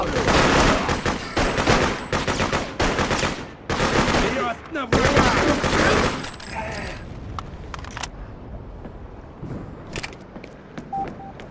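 Rapid bursts of video game gunfire during a battle, loud and close, rattling in dense volleys with shouted voices over them before thinning to scattered shots.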